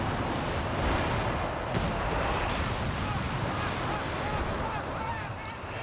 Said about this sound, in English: Does feel like the phosphorus barrage has maybe worse scatter than the regular barrage.